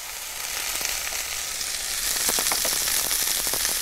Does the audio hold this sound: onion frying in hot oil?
yes